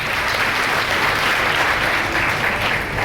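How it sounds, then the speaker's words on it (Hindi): A festival audience at a Jain saints' gathering bursts into loud, dense applause, an unbroken wall of clapping that holds at full strength throughout. "मंगल प्रसाद जी लोढ़ा के लिए जोरदार तालियां।"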